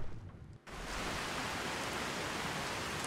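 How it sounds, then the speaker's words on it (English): Steady rain in the Skyrim video game, a dense, even hiss of falling rain that swells in after a brief dip near the start and holds loud and constant, with no voices. "Oh goody, it's raining."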